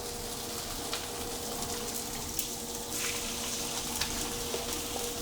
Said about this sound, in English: So now we're searing the lobster tails.